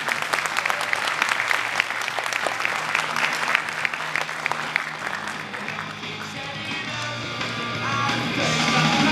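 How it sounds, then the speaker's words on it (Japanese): Warm, sustained applause from a crowd at a football club's new-lineup presentation event, welcoming the club president, steady and fairly loud with a faint background music tone underneath. "皆さん大きな拍手でお迎えください。"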